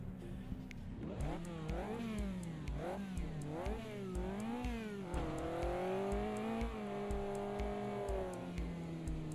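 Race car engines rev and wail in the Project Cars 2 racing game, rising and falling in repeated pitch sweeps as gears shift, steady and continuous with no voices.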